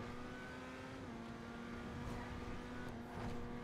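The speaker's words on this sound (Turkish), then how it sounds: "Abi araba ne kadar hızlı gidiyor görüyor musunuz?" Dewbauchee Champion sports car driving fast in GTA 5 Online, its engine holding a steady, high, buzzing drone that swells slightly toward the end, close and continuous with no talking.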